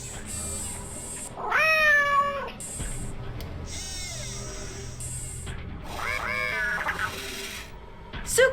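A cat meows in the Nancy Drew game Shadow at Water's Edge, two drawn-out, wavering meows a few seconds apart, close and clear over a quiet ambient background, with a shorter faint mew between them.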